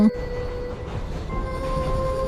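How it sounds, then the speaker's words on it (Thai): A train at a station: a loud low rumble with sustained metallic squealing tones from the wheels, continuous and close throughout. "ก็มีรถไฟมาจอดจริงๆตามที่คุณยายคนนั้นบอก"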